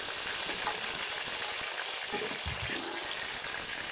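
Potatoes frying in a pan for aloo dum biryani, a loud, steady hissing sizzle of oil, close up, with a few soft stirring knocks partway through.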